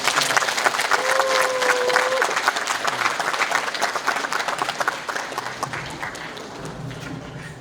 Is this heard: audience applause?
yes